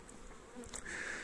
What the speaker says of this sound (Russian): Трошки летают пчелы